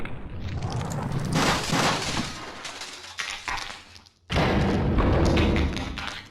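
A planted bomb detonates in the video game Max Payne 2. Heavy, loud booming bursts and rumbling debris fill the space, cut off briefly before a second loud blast roars again.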